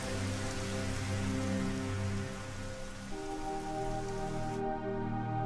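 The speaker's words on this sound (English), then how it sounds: "Rain, good, we needed you." Rain in the video game Dig or Die, a dense steady hiss of falling rain layered with sustained droning music tones, continuous and fairly loud throughout.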